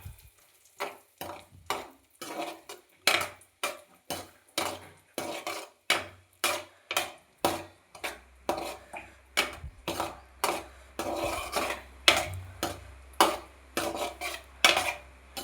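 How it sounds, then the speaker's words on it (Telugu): Cashews roast in a pan on low flame while being stirred, rhythmic scraping and clinking strokes repeating about once a second with a faint sizzle underneath. "ఇవి మాడిపోతాయి కాబట్టి గోడంబి సిమ్ములో పెట్టుకొని ఇలా వేయించుకోవాలి."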